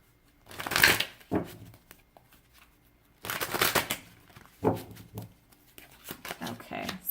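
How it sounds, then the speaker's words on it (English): Tarot cards shuffled and pulled, soft papery riffles and slaps in a few short bursts, close and fairly quiet, separated by near silence with a little movement noise. "Just pulling cards."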